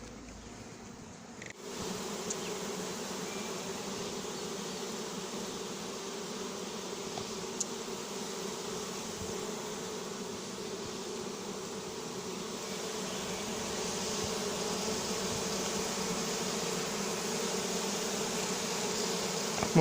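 A honeybee swarm hums continuously as it is collected into a cardboard box after the branch is shaken, a dense, steady buzzing that stays at even loudness and builds slightly toward the end, with no voices.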